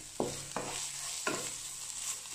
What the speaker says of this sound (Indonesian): Kita tumis sampai si wangi dari si daun jeruk, dari serai